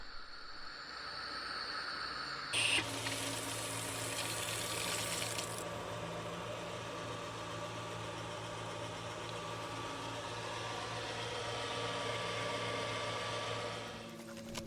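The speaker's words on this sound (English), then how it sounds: "The pool pump is sucking in the water and filling up the filter." A pool pump motor hums steadily while water rushes and gurgles filling a Pentair Quad DE pool filter, with a burst of louder splashing early before settling into a constant drone.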